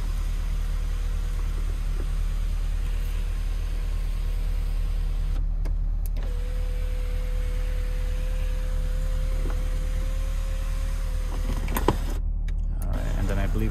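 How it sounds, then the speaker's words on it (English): The electric sunroof of a 2006 Ford Escape XLT hums as its motor drives the panel open, a thin steady whine over a low cabin rumble, with a person talking in the background. "up here we do have a sunroof on this vehicle"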